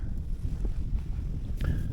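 Heavy wind buffets the microphone during float fishing for crucian carp, producing a constant low, rumbling roar throughout with no clear pauses.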